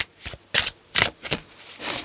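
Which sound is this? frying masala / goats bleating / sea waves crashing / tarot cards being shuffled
tarot cards being shuffled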